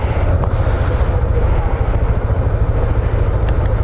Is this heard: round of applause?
no